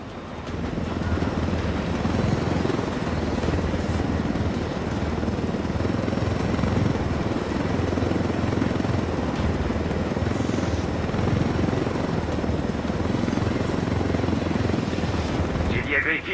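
Helicopter in Ghost Recon Wildlands drones with a steady rotor roar and engine hum throughout, loud and continuous with faint wind noise and no break.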